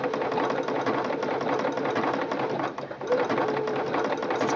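A Singer Quantum Stylist 9960 sewing machine runs a built-in back-and-forth stitch with the overcast foot, a steady close mechanical whirring and rapid needle clatter that dips briefly near the end.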